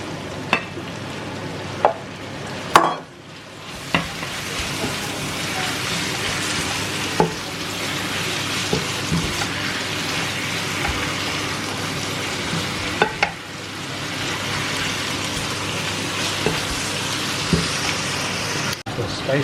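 Lamb frying in a pan for a curry, a continuous hissing sizzle with periodic sharp clacks and stirring scrapes, and voices talking now and then over the cooking.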